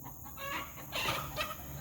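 A hen in a backyard flock gives a loud, drawn-out cackle, the call used after laying an egg or to warn of danger, with two or three rising squawks in quick succession close by.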